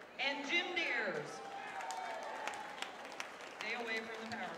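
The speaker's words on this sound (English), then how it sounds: "please give a warm Seattle round of applause to Rick Krochalis and Jim Diers." Applause from an audience at a 1995 charity kickoff event at Seattle's Pier 48, soft scattered clapping running under a nearby voice that talks over it.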